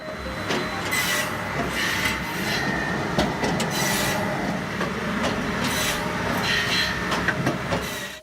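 An industrial firewood processing machine cuts logs at a steady interval, giving a loud continuous grinding, rasping drone with sharp woody cracks and scraping bursts recurring every few seconds.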